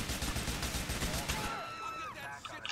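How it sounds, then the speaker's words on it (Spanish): In GTA IV, a rapid burst of gunfire crackles in quick succession, then stops; a few electronic tones slide by as the shooting ends. "Me agacho, apunto y disparo"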